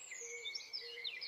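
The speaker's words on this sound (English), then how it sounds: "Birds." Several birds chirp and tweet in quick, high-pitched calls that overlap against a quiet background.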